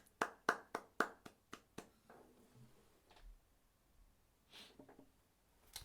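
A single person claps about eight times in a quick, even rhythm, close and crisp, during a quiet late-night livestream, followed by faint soft taps and small noises in a hushed room.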